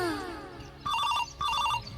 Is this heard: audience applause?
no